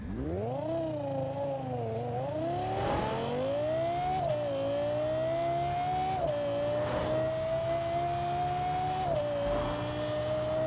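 A Lexus LFA engine in the racing game Forza Horizon 4 revs hard and climbs through the gears, loud and close, its pitch rising in sweeps with brief dips at each shift.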